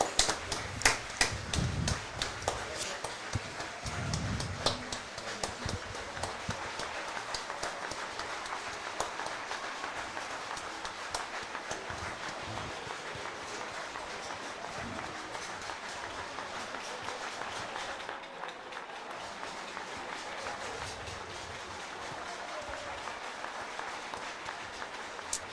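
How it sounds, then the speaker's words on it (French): A standing crowd at a regional rugby match between Stade Foyen and SCAC Saint Cyprien gives a minute of applause as a tribute, a steady, distant patter of clapping that carries on at an even level throughout. "Ça sera une minute d'applaudissement pour Domi"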